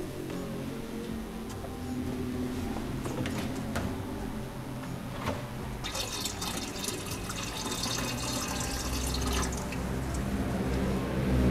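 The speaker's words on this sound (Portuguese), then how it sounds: "vou colocar lá e vou adicionar um pouquinho mais de água" Water is poured and dripped into a dark silver purification mixture, a soft, continuous trickle with small drips and clicks, fairly faint and steady throughout with no talking.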